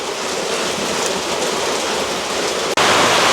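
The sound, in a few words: heavy rain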